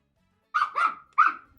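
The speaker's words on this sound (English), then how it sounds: "He's barking louder than I'm talking." A small indoor guard dog barks twice in quick succession, close and sharp, with a brief pause between the yaps and no talking over them.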